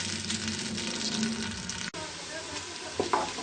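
Onions frying in oil in a pressure cooker give a steady close sizzle with soft stirring scrapes and a brief clatter near the end.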